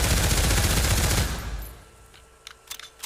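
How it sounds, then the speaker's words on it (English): A machine gun in the VR shooter Pavlov on PSVR2 fires one loud, close sustained burst that cuts off, followed by a few sharp mechanical clicks of weapon handling. "It's a machine gun."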